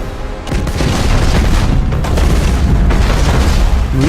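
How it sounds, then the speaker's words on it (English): Imperial Navy warship firing all weapons in Battlefleet Gothic: Armada, a loud continuous barrage of heavy booming blasts that rolls on for several seconds after a brief quieter moment at the start. "Fire all weapons!"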